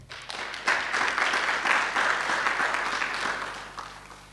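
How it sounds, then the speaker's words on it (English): Audience applause breaks out at an Africa Day celebration at Freedom Park, a dense steady clapping that swells after a moment and holds for several seconds before gradually thinning, fairly close and without talk. "Another round of applause."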